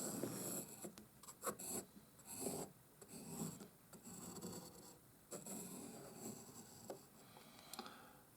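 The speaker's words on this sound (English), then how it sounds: "Next to that, draw your second circle." A pencil drawing a circle on paper, a dry scratchy rasping that sweeps in repeated strokes, close and fairly quiet with no talk.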